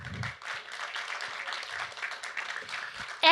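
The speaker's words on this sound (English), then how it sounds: "Please give an applause to El Connoisseur chapter" Applause at a global festival as a women's organization chapter is honored, a faint, thin spread of clapping heard at a distance, cut off by a louder sound at the end.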